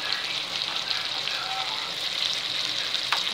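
Tomatoes and onion fry in a pan with a dense, steady close sizzle, broken by occasional soft scrapes of stirring and a brief clink near the end.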